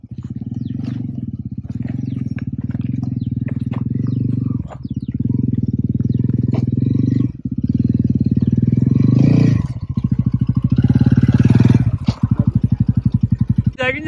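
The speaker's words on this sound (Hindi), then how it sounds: "तो आपको दिखाते हैं of road TVS Ronin bike कैसे आती है ऑफ रोड, इससे दोबारा स्टार्ट करेगा।" A TVS Ronin motorcycle on an off-road hill trail, its engine thumping steadily and loudly close by, with several revving bursts and brief drops, while people talk over it.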